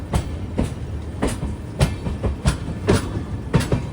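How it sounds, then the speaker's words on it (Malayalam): Ernakulam–Velankanni weekly express train rolling into Tiruchirappalli Junction, with a steady run of loud, evenly spaced wheel clacks over rail joints against a continuous rumble. "ട്രെയിൻ ഇതാ തിരുച്ചിറപ്പള്ളി ജംഗ്ഷനിലേക്ക് എത്തുകയാണ്"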